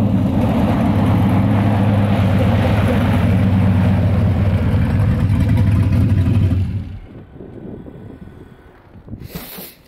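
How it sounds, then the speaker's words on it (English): A boosted four-wheel-drive truck on studded tires, running 10 lbs of boost, launches and accelerates hard with a loud, sustained engine roar and wind buffeting, then drops away abruptly and fades to quiet after about six seconds. "I want to see if it'll do like a trans brake launch"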